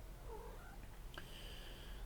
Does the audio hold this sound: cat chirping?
yes